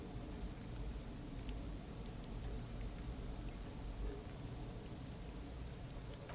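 Steady rain falls in the video game Disco Elysium: Final Cut, a dense, even hiss of drops that runs unbroken and fairly close for the whole stretch, with no thunder or voices.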